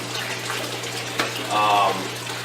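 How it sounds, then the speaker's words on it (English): Water gushes out through an opened valve at the bottom of an aquaponics tank, flushing solid waste in a steady rushing flow that swells briefly, with a person talking over it and a low hum beneath. "all you got to do is just open up the valve here, and it dumps out all the solid waste off the bottom."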